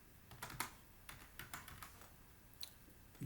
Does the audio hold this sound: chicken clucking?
no